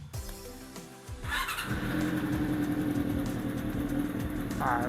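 A 1994 Honda CB400 motorcycle engine catches after a moment of idle clatter, then runs at a loud, steady roar close by, with a brief rev near the end.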